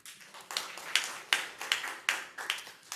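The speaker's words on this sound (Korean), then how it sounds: "하나님께 영광의 박수" A few people at a church service clap in a slow, uneven rhythm, sparse distinct claps spaced about half a second apart, close and moderately loud.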